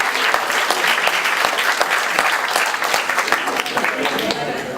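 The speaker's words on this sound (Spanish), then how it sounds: "Vamos a darle un fuerte aplauso a nuestro compañero por su participación." Strong, close applause from students at a university talk on a governor election, crisp dense clapping throughout that eases slightly toward the end.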